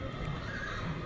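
A horse neighs at a Saturday horse market in Sokuluk, Chuy, a short, faint whinny over steady crowd and market noise.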